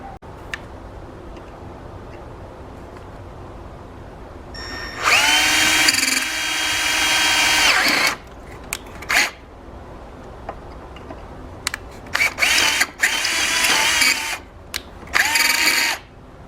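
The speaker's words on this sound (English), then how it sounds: "what I'm gonna do now is I think I'm just gonna try and drill through it." A power drill bores through a soft aluminum bolt in short, loud whining bursts separated by quiet pauses, with faint clicks and workshop noise between.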